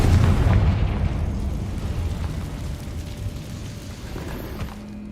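A Confringo blasting spell going off in Hogwarts Legacy, a deep rumbling boom that fades slowly into a low, churning tail.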